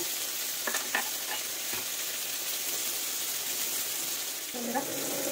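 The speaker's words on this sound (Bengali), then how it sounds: "অল্প পরিমাণে হলুদ দিয়ে দিলাম, দিয়ে কিন্তু এটাকেও সুন্দর করে আমি ভেজে নেবো।" Vegetables frying in a pan with a little turmeric give off a steady, even sizzle throughout, with a few faint clinks of a utensil near the start and end.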